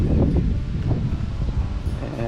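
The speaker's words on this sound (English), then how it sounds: "Ooh, you gotta feel that wind." Wind gusts steadily across an open cemetery, a broad continuous rushing with rustling and microphone buffeting, faint voices underneath.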